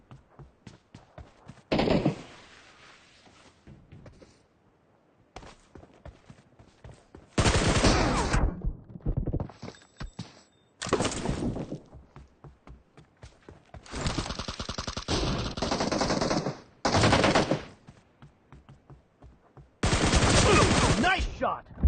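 Gunfire in the PUBG video game comes in several loud bursts of rapid automatic shots with quieter gaps between them, close and harsh, without talking.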